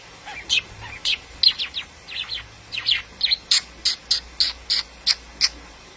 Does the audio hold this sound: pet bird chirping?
yes